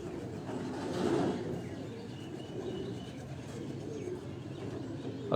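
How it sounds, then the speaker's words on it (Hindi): French pigeons keep up a soft, continuous cooing chorus nearby, swelling briefly early on and then settling into a low steady murmur. "फ्रांसे कबूतर ਦਾ ਤੁਹਾਨੂੰ ਸ਼ੌਕ ਕਰਾ ਰਹੇ ਹਾਂ ਜੀ"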